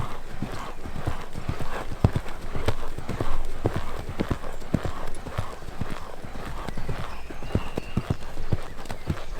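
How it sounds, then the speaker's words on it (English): A horse cantering, with rhythmic, close hoofbeats thudding steadily on the ground, breathing and tack sounds mixed in, and a rider talking briefly over the hooves. "you could just pop into canter"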